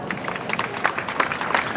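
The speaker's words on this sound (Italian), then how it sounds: "ci ha raggiunto il sindaco di Padova, gli facciamo un applauso" A crowd at a Padova public event claps to welcome the city's mayor, a brief, dense patter of applause filling the room.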